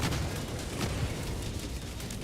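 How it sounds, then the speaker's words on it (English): Video game explosions rumble and burst continuously in a dense, noisy wash of blasts, loud and without pause. "Experience how inconsistent explosions are now."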